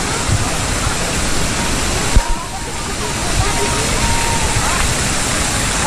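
The Curug Jodo waterfall at the Sari Ater hot springs in Ciater, Subang, a loud continuous rush of falling water that fills the whole clip, with a brief knock near the middle.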